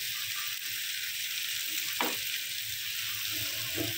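Potato and pointed gourd fry together in a pan with a steady close sizzle, one sharp stirring scrape near the middle and a few light utensil taps, no voices.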